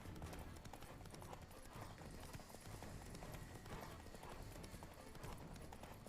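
Roach, the horse in The Witcher 3, gallops with dense, continuous hoofbeats under a busy wash of game ambience and music, with no voices.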